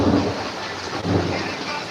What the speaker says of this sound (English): We have a lot of thunder and lightning